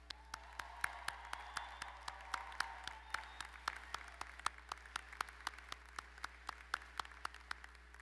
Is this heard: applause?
yes